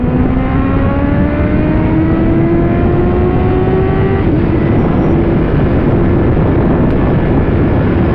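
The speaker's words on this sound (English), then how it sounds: "Bit of a chop on the throttle there. Carbs aren't loving it." A motorcycle engine with carburettors icing up in cold weather runs loud and close with a rising drone, then the pitch drops abruptly midway as the throttle chops, followed by a steadier lower roar under heavy wind noise.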